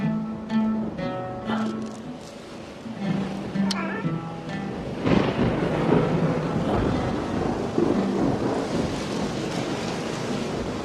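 Steady rain with rumbling thunder builds to a dense, continuous wash in a dramatized scene about a birth, with a voice and tonal sounds heard early before the storm noise swells.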